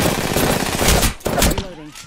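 Rapid automatic gunfire in Apex Legends rattles loud and close in a continuous burst, breaks off briefly, then resumes before a voice speaks near the end.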